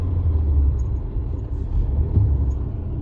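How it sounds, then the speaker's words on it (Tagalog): A car fitted with an aftermarket muffler rumbles nearby, its low exhaust note steady with slight swells as the engine picks up, with no talk over it. "Kaya nga nilagyan din to ng muffler, kumbaga yung exhaust."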